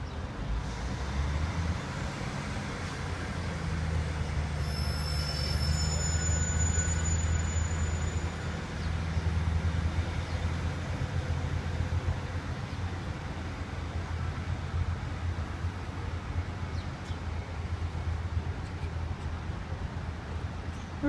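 Newark train service departs past the Lowdham level crossing, a steady low rumble that holds for the whole stretch, with faint high crossing tones or squeals briefly audible near the start.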